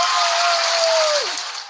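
A short burst of crowd cheering and clapping plays over a live hair-braiding tutorial, dense and fairly loud with a sustained whistle-like tone that bends downward, fading after about a second.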